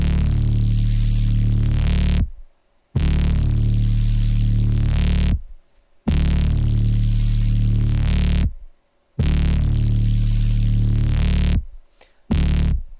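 Ambient sound design passed through a plugin preset, heard as four long swelling blocks of dense, droning texture with a low throbbing hum and static-like hiss, each cut off by brief silences.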